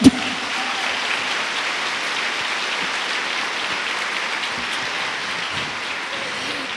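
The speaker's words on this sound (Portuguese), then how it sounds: "Pode aplaudir." A church women's gathering bursts into audience applause with a sharp onset, then settles into dense, even clapping that continues loudly throughout, rain-like and uninterrupted.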